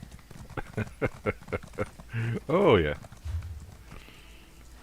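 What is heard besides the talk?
horse hooves clip-clopping in The Elder Scrolls Online video game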